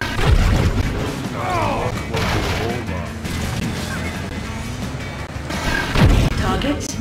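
Rapid machine-gun fire and heavy explosions crash and boom repeatedly in the Cars 2 video game during the Runway Invasion attack mission, loud and dense throughout, with several sharp blasts standing out.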